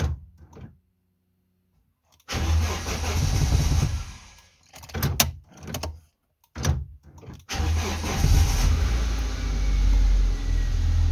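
A Geely CK car engine, just after a cylinder head gasket replacement, cranks and catches near the microphone, then settles into a steady idle with a couple of brief cut-outs before running on evenly.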